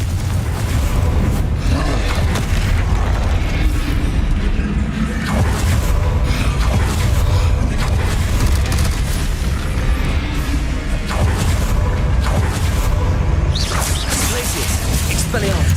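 Loud, dense game-effect din from a Hogwarts Legacy Confringo fire spell, with a steady roar of blasts, whooshes and crashes running throughout, several sharper bursts, and a voice speaking over the mix.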